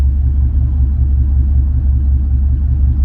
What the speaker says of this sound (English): So I'm gonna turn on the truck.